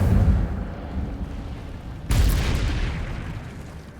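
A single sharp fiery burst of the Incendio spell in Hogwarts Legacy erupts midway, a bright whooshing blast that rises out of low rumbling background noise and fades slowly over a couple of seconds.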